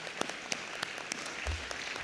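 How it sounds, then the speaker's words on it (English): A small audience applauds at the close of a Massachusetts state Senate district debate, with light, scattered claps and a few sharper individual hand strikes standing out over a soft background. "give everybody a round of applause for this evening's activity"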